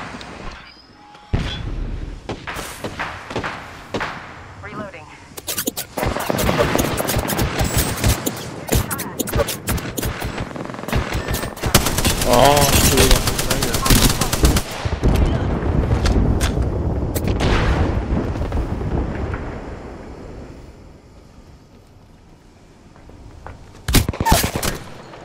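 Heavy gunfire in the video game Apex Legends, with rapid bursts, booming shots and dense volleys that build and roll for about twenty seconds, then fall quiet before a last few loud cracks, with players talking over it.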